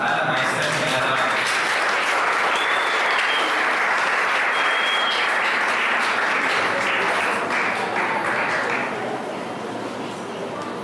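An auditorium audience claps warmly for a teacher introduced at a neuroscience and learning talk, a full, steady burst of many hands that holds for several seconds before tapering slightly at the end.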